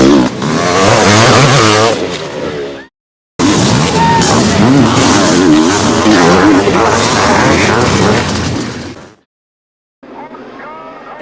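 Kawasaki KX500 500cc motocross bikes race at the 1988 Namur Grand Prix, their engines roaring loud and close, cut by two brief silent gaps.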